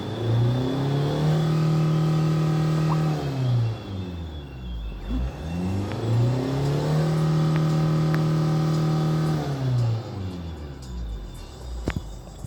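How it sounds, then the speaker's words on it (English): A Hyundai Tucson engine revs up twice during acceleration, each time climbing steadily in pitch, holding, then dropping back. The engine is loud and close, with a short lull between the two runs. "let's try to accelerate and check out the RPMs movement."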